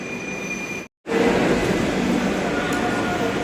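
A Yellow Line metro train with a Chinese-built Dalian rake, running from Noapara toward Jai Hind airport, rumbles loudly and steadily nearby, with continuous rail noise and a faint high squeal from the wheels.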